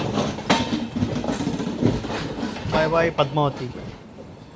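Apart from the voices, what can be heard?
17243 Express train running, Guntur to Rayagada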